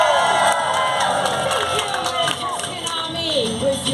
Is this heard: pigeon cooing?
no